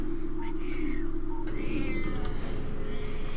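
A cat meows in two short bursts, the calls close and moderately loud over a steady low hum of game music and background noise, with no talking.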